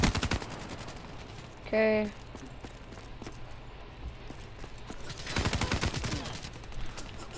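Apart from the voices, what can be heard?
sniper rifle gunfire in Call of Duty Black Ops III video game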